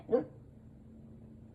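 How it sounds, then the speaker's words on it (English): A dog gives one brief, muffled bark at a distance, with a low steady hum beneath it afterwards. "If it's not Murphy, it's Misha barking."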